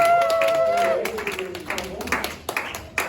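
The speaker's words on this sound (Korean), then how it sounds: "우리 들어가는 길도 우리 박수로 우리 축하하도록 하겠습니다" A church congregation at a high-school Sunday service clapping to celebrate students, scattered claps at moderate level that break in after a stretch of talk, with people still speaking over it.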